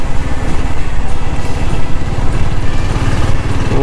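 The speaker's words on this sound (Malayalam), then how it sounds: "ഇപ്പോൾ ബൈക്കും കാര്യങ്ങളെല്ലാം പോകുന്നുണ്ട്, നമ്മുടെ മാത്രമല്ല വേറെ ബൈക്കുകൾ കാര്യങ്ങളെല്ലാം പോകുന്നുണ്ട്" Motorcycles riding along a road in Goa, a loud, continuous engine drone with pulsing low exhaust rumble and wind, close and steady throughout, with no talking.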